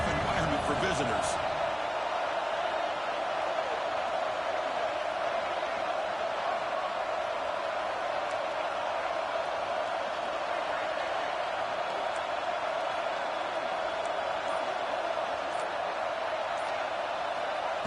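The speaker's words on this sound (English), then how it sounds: "Listen to the crowd energy here in the early going." Steady roar of a stadium crowd at a college football game involving UCLA, a continuous broad wash of cheering and murmur held at an even level throughout.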